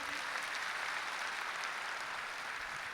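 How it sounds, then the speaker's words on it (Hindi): An audience claps continuously at a kavi sammelan poetry gathering in Raipur, an even, fairly faint wash of applause with no voices over it. "अब एक बार तालियां बजाकर मुझे अनुमति प्रदान कर दें"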